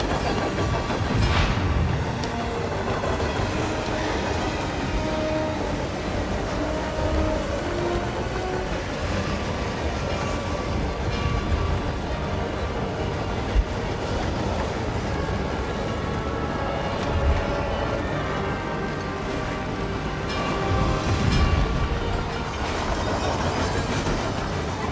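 A moving train in a video game set during a snowy blizzard in Romania rumbles steadily throughout, a continuous loud rattling wash with faint rhythmic clacks and no talking.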